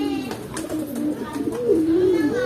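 A racing pigeon coos close by in a loft, one low rolling, wavering call that swells and dips, with faint rustling behind it.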